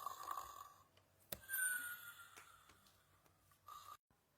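A cartoon snoring effect for sleeping farm animals (a cat, cow, sheep, pig and piglets), with soft, breathy rasping rising and falling over a few seconds, fairly faint and without speech.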